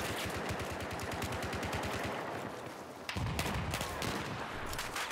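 Rapid gunfire rattles in Battlefield 4 gameplay, with sniper shots in the mix, a dense stream of shots that drops briefly and then resumes louder, with no voices.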